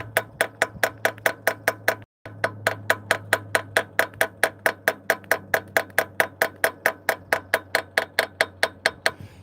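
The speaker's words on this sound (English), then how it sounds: "You can tell when it's all the way in when the tone changes when you're hammering on it." Hammer tapping a grease fitting into a dump truck, a long, even series of about forty sharp metallic taps at a steady quick rhythm, close and loud over a low engine hum, with one brief pause.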